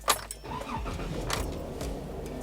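A 2012 Jeep Wrangler Unlimited Sahara engine cranks briefly and catches, settling into a steady close idle after a quick key rattle, with no speech.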